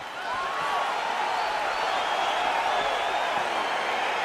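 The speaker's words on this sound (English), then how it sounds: "crowd getting excited as this fight gets underway" A virtual arena crowd in EA Sports UFC 4 cheers as a fight begins, a dense, steady roar of voices and whistles holding at an even level throughout without any clear break.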